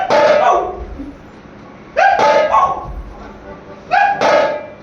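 An actor's voice imitating a dog barking on stage in a comic play, with three loud bursts of yapping barks spaced about two seconds apart, close and clear.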